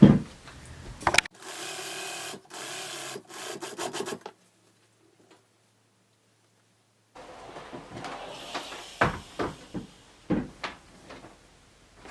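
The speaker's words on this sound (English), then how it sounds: "Then just sew along the top close to the edge" Sewing machine stitching close along the top edge of fabric, with a steady mechanical whirr for a few seconds, then silence, then a run of rustling fabric handling and small knocks.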